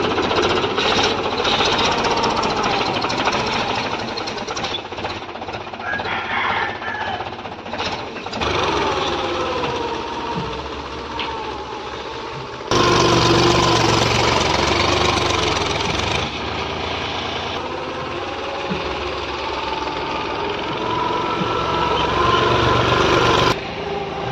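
A tractor engine runs hard while threshing paddy in a field, a loud, rough, continuous mechanical drone with rattling and shifting load, surging louder partway through and holding steady, with no talk over it.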